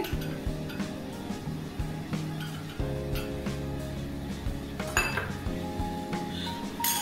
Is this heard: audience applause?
no